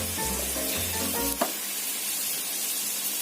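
Whole spice seeds dry-roasting in a pan for biryani powder, a steady close crackling sizzle with a few brief tonal clangs early on, then a quieter even rustle.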